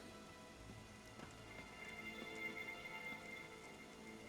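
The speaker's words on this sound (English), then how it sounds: "It is raining now, I think." Rain falling in Elder Scrolls Online, a soft, even patter of drops with a faint tonal ambience underneath, quiet and continuous with no voices.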